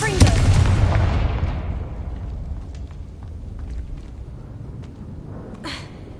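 The Confringo fire spell in the video game Hogwarts Legacy goes off as a loud, close explosive boom that rolls off into a long rumbling decay, with faint scattered crackles and a brief burst near the end.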